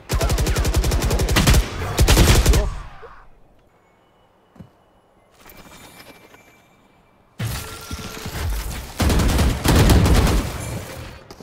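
Video game gunfire: dense rapid bursts of automatic fire, loud and close, open the clip, then a quiet stretch with a lone shot and a softer burst, before heavy sustained firing returns at the end, with no talk.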